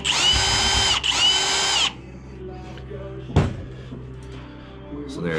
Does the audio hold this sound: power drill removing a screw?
yes